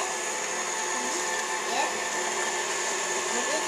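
A mixer whirs steadily through chocolate sugar cookie dough, a loud continuous motor drone with little change in pitch, barely rising near the end.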